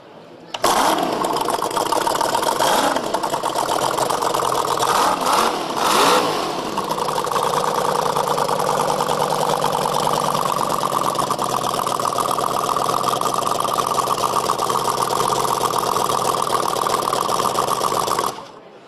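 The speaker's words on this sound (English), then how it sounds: "Can you fire that up, Dwight?" A small engine at an interview location cranks over and settles into a steady idle, loud and close, running evenly for most of the stretch before cutting off, with a brief burst of voices early on.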